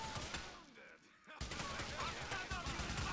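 Rapid gunfire from the video game GTA IV, bursts of shots and explosions filling the clip with a brief lull near the middle before dense firing resumes.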